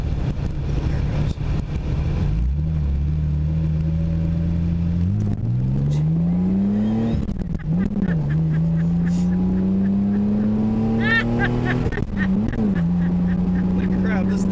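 An MK2 Toyota Supra of about 160 horsepower accelerates hard up a hill, its engine note climbing through the gears with short pauses at each shift, loud from inside the cabin with people talking over it.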